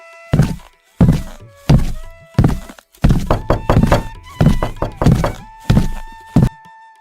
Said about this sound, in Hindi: इतने में बाहर दरवाजा खटखटाने की आवाज आई।